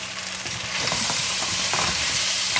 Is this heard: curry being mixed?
yes